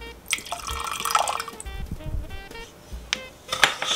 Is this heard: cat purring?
no